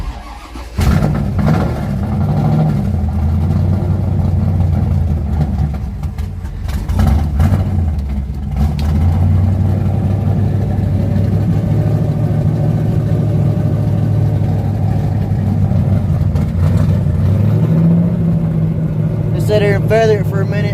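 An old truck engine starts from cold and runs under partial throttle, a loud continuous close rumble whose pitch rises and falls slightly as it catches and is held, with a brief higher rattle near the end.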